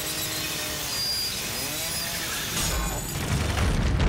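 A chainsaw revs in the horror video game The Evil Within, a loud, steady buzzing roar that swells and grows harsher toward the end.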